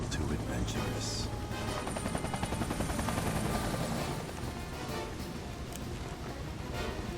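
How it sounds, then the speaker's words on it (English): Helicopter flying in the video game Final Fantasy 7 Remake, a steady rotor drone mixed with bursts of gunfire and action noise throughout. "How many more helicopters can ruin Xandra's night?"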